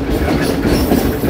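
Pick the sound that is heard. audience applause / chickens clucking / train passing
train passing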